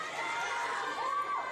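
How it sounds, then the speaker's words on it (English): Wrestling crowd at an independent main event cheers and yells to rally a wrestler, a loud continuous roar with high shouts rising above, one voice swelling near the end. "The crowd trying to get him back into it."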